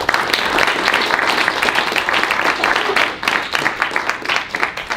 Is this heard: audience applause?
yes